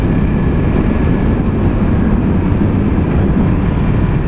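Yamaha YZF R1 superbike ridden on Singapore roads, a loud continuous engine roar mixed with heavy wind rush, steady throughout with no pauses.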